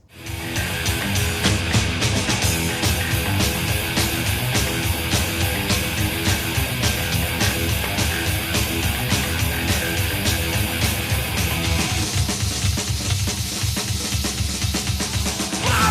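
A heavy metal track from a 1987 album plays loudly, with dense distorted guitars and pounding fast drums driving steadily throughout, no talking over it.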